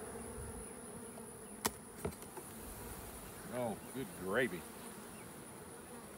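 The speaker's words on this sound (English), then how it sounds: "That's a box of bees there." A dense, steady buzz of many honeybees in a hive box hums close by, with a couple of sharp knocks and a person exclaiming briefly over it.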